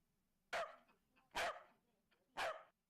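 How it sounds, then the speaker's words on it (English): A recorded corgi barks three times, each bark sharp and loud with a short tail, evenly spaced about a second apart against quiet background, with no talk. "We're gonna look up a corgi bark"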